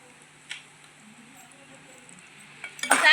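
A spoon knocks and scrapes in a cooking pot as salt, turmeric and asafoetida are stirred on low heat, one light clink early and a louder burst of stirring at the end.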